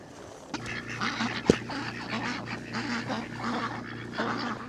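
Ducks quacking repeatedly nearby over a steady outdoor background, with a sharp knock early on.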